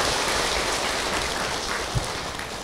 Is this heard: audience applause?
yes